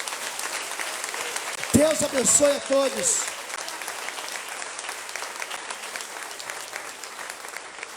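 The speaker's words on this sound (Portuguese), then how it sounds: "Aplauda ao Senhor." A Portuguese-speaking church congregation applauds the Lord, a steady, moderately loud wash of clapping running throughout while a voice speaks briefly over it.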